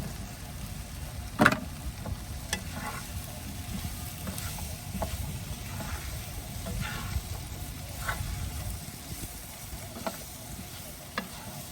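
Onion, capsicum and mushroom fry in a pan with a soft, steady sizzle and occasional stirring clinks. The sound is fairly quiet and close, with no talking.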